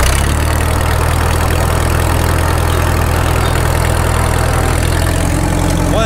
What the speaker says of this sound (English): Well, that diesel sounds good.